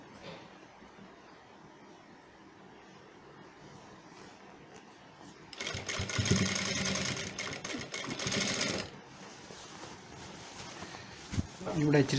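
A sewing machine stitches a shirt piece in a loud, rapid burst lasting about three seconds, then a brief second run, over a quiet background with a voice speaking at times.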